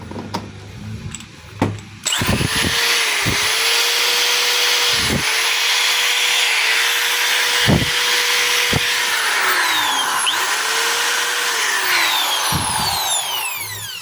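A DeWalt 1/2-inch hammer drill starts after a moment of quiet and runs loud and steady in hammer mode, a dense rattling whine with brief dips in speed, close to the listener.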